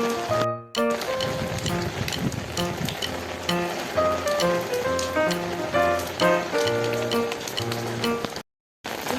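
Steady rain falls at home, a dense continuous patter on surfaces with scattered louder drips, holding loud and even before a brief silent break near the end.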